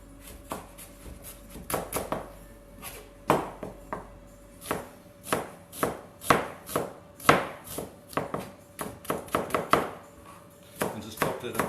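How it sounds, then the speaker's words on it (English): A knife slices a red onion thinly on a cutting board, giving a quick irregular series of crisp chops and taps, close and clear, with no talking. "So we're just going to do a little bit of red onion. We're going to slice it up really nice and thin as well."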